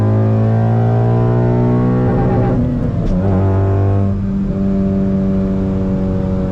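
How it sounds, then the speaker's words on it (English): A 2014 Honda Civic Si with a full bolt-on Skunk2 exhaust revs loud and close, a droning, steady engine tone that rises and dips briefly in pitch partway through before settling back. "2014 Honda Civic SI. Full bolt-on skunk 2 exhaust."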